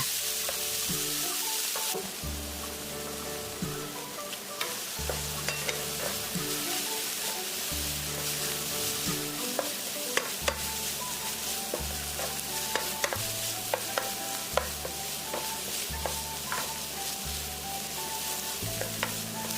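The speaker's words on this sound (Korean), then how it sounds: "간장이 눌켜졌을 때 김치와 고춧가루를 넣어 볶아줍니다" Kimchi and chili powder are stir-fried in a pan over low heat. A steady, gentle sizzle runs throughout, broken by regular spatula scrapes and clicks, with no talking.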